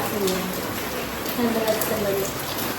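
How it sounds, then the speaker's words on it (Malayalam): Steady rain falls outside a house, a continuous close hiss with scattered drops tapping on surfaces, while people talk over it. "നല്ല മഴ"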